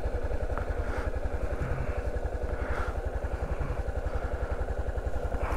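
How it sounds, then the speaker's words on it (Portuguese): A motorcycle engine running on strong gasoline knocks with a rapid, steady pulsing beat and metallic clatter, close and continuous, on a dusty stretch of the Atacama route. "Olha que bateção que tá a moto, a gasolina é muito forte que ela dá."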